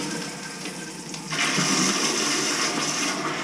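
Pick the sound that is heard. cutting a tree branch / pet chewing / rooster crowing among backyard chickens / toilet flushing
toilet flushing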